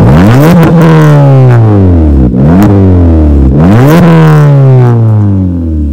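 A modified Suzuki Baleno with the air conditioning switched on revs hard and loud, its engine note swooping up and down in three repeated surges with no one speaking.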